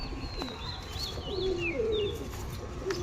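Bondhudom pigeons with purple-feathered feet coo in a steady, close run of low throaty calls at a Howrah pigeon sale, with faint higher chirps from other birds behind and no talking.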